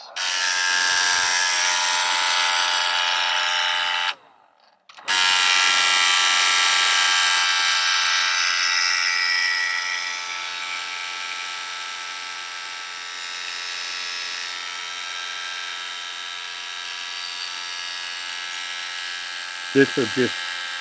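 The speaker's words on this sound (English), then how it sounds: "I'm going to give it just a little blast to dry it, so you may cover your ears as I do this." An air blower blasting to dry a sunflower painting: a loud, continuous high-pitched whirring roar that cuts out briefly, restarts and gradually fades lower in pitch, followed by a short voice at the end.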